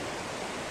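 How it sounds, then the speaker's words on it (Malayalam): Floodwater from the 2021 Adoor floods rushes past a bridge in a dense, steady roar of turbulent water that fills the whole short stretch. "ഇത് ഭീകര ഒഴുക്കാ."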